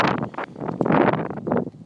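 Wind gusts and rushes past a helmet while skateboarding outdoors, a loud, broad buffeting roar that swells and falls in uneven bursts, with no voices.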